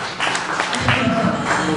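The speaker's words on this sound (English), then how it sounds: "Give them a round of applause." Festival crowd at Sistafest 2012 applauding the Xclusive Dancers on stage, a short burst of clapping and cheering, with someone talking loudly over it.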